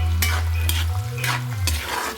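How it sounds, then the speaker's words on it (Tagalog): Food frying in boiling oil in a pan, a steady bubbling sizzle with several scraping stirs breaking through at regular intervals, close by. "Ayan o, kumukulo na siya."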